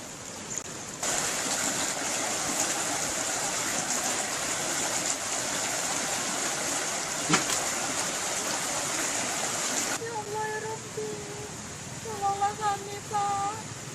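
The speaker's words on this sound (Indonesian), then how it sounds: "luapan sungai mulai memasuki pemukiman warga" Flash-flood water from an overflowing river rushes steadily into a residential neighborhood, a loud continuous roar that runs throughout, with a reporter speaking in Indonesian over the torrent near the end.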